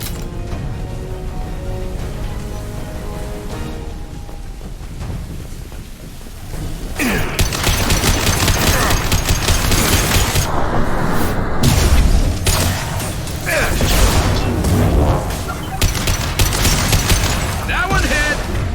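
Gunfire and explosions in the shooter Mass Effect 2, a quieter stretch giving way to a loud, sustained barrage of shots and booms, with in-game voices calling out over the combat.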